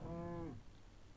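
A single cow in the Minecraft video game gives a short, clear moo that falls away quickly, heard alone with no talking.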